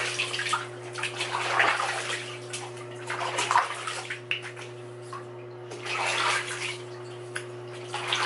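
Bathwater splashing and sloshing as a baby's face is washed in the tub, close and moderately loud with a faint steady hum beneath, no talk.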